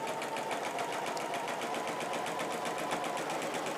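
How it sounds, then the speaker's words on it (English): A sewing machine with a walking foot stitches a straight quilting line, a fast, even mechanical whir of needle strokes running steadily throughout, close and constant. "I'm going to stitch a straight line straight towards myself."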